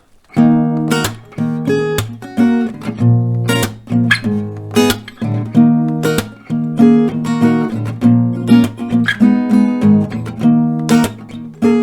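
An acoustic guitar picks a bright, steady melody of plucked notes from a song over bass strings, played alone at a moderate tempo with no voices.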